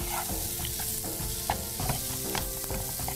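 A cheese corn masala burji mixture sizzles steadily in a pan while a spoon stirs it, scraping and clicking at irregular moments over the constant frying hiss.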